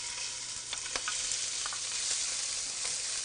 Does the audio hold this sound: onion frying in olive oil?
yes